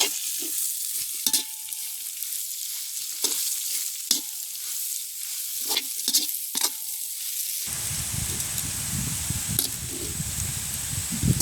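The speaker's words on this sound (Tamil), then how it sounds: "நாங்கள் பிரிச்செடுத்த மரக்கறிகளை சேர்ப்போம் இதை கிண்டி விடுவோம்" Vegetables are stirred in a hot pan for noodles in a village kitchen, with scraping spoon strokes and sizzling, then the frying turns into a louder, fuller hiss toward the end.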